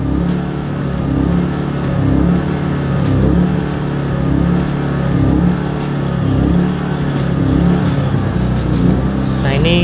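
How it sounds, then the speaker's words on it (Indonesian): A TDR TI 2000 portable inverter generator switches to its faster rabbit mode, and the engine speed rises into a loud, sustained running drone with a few sharp ticks, heard up close. "Kalau saya mode kelinci, nah RPM nya naik dia"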